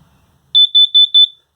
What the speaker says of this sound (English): this is your LP detector here. It'll let you know if there's a gas leak